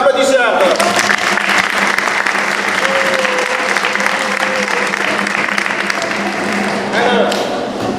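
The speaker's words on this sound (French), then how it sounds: "Applaudissez encore." At a closing Mass for a youth event at Saint Jean-Apôtre church, the assembly applauds loudly and at length, a thick roar of clapping with a voice speaking faintly underneath.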